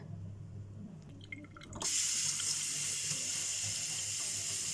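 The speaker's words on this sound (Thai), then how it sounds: "เดี๋ยวขอล้างทำความสะอาดก่อนนะคะ" Red ant eggs being washed under a running tap: faint handling noises give way to a sudden, steady rush of water splashing into a sink that carries on to the end.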